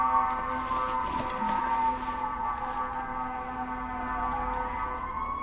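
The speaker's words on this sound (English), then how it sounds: "there must be some ambulance going by" An ambulance siren passing at a distance, its steady wailing tones sustained throughout and lingering in the background.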